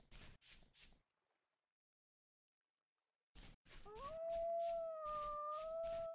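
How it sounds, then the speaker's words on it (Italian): In the video game Vintage Story, a wolf lets out one long, rising howl that carries steadily to the end, following short bursts of other sounds and a silent pause. "Ulula lui."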